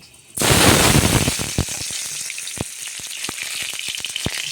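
Garlic hits hot oil in a pan with a sudden loud sizzle that fades into a steady crackling fry dotted with sharp pops, heard close up.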